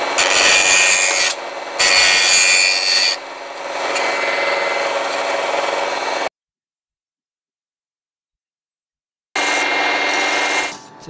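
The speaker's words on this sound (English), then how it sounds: "Using the sander to sand it to the line." A power sander grinds the edge of a handmade screw bracelet down to a marked line, a close, harsh rasping in several bursts with short pauses and one long silent gap.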